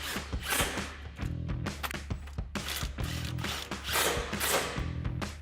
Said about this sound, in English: we'll take a 13mm socket and tighten down those 2 bolts